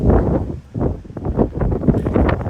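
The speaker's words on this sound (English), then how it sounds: "Very fitting today as it's windy." Gusty wind on a cliff along the Appalachian Trail buffets the microphone in low, rumbling surges that rise and fall, loud and close, with no one speaking.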